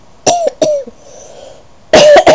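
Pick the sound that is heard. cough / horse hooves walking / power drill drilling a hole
cough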